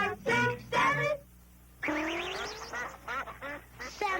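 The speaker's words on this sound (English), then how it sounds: "7 ducks." Cartoon ducks quack in a lively series of bursts, a pair of loud honks first, then a pause, then a run of wobbly, rising quacks overlapping one another, close and clear with nothing else heard.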